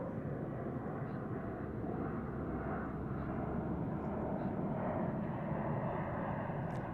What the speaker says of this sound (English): there's a Dreamliner departing